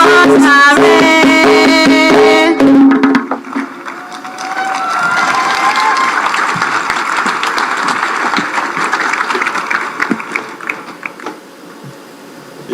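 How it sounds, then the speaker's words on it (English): At a Scarborough RC School graduation ceremony, a few seconds of music give way to an audience applauding and cheering for student performers, the clapping swelling and then fading toward the end. "another round of applause for Speechifiers, students of Scarborough RC"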